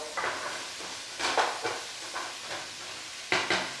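Chopped vegetables sweating in a pot with coconut oil and sausage for kale soup make a soft steady sizzle, with several short bursts of stirring scrapes. It is close and fairly quiet, with no talking.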